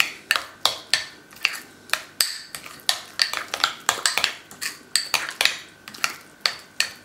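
Mashed avocado mixed with honey in a bowl, a utensil clinking and scraping against the dish in quick, irregular strokes, close up with no talking.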